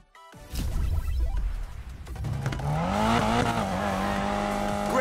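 A car drifts hard in the Need for Speed Payback racing game, engine revving up and holding a high whine while the tires squeal loudly and continuously through the slide.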